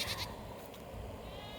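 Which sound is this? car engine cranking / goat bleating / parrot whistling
goat bleating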